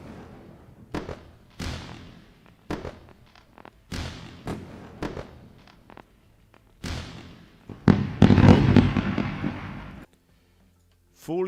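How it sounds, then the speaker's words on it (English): Fireworks show with a series of sharp booming bursts at irregular intervals, each trailing off, building to a dense crackling cluster near the end before a brief silence. "Continuing the fireworks show."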